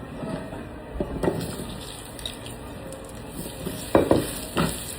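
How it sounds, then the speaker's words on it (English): Potatoes seasoned with salt, pepper, garlic and steak seasoning frying in a pan, a low background sizzle broken by several sharp scraping and tossing sounds from stirring. "I'm gonna fry these up until they have a good golden crust on them"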